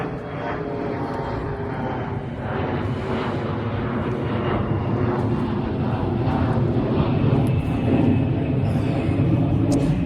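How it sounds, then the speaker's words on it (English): A propeller airplane drones overhead above a backyard tomato garden, a loud, continuous engine rumble that swells gradually over about ten seconds with no talking. "Plane, always with the planes."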